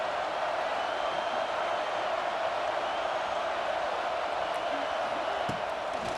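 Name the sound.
stadium crowd in College Football 26 video game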